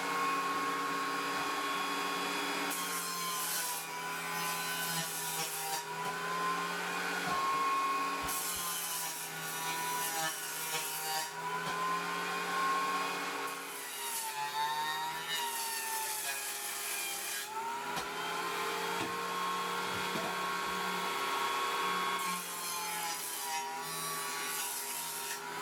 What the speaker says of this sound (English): On my trusty joiner, I get all 7 pieces nice and square.